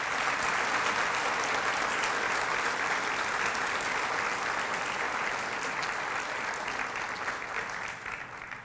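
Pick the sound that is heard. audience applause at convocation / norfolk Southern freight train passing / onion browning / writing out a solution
audience applause at convocation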